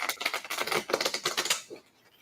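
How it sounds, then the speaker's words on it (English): A deck of cards is shuffled at close range, a rapid run of crisp riffling clicks lasting about a second and a half before stopping abruptly, with no speech. "I'm shuffling the cards for the Mystery Grounds."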